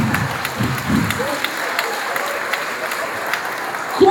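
Audience applause at a live stand-up comedy show in Zagreb's Tvornica Kulture club, a broad wash of clapping throughout the room that holds steady with small swells, with a few faint voices mixed into the crowd.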